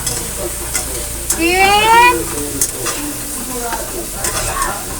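Chicken sizzles and fries in a pan, a loud close hiss with stirring scrapes, briefly joined by a high squeaky tone.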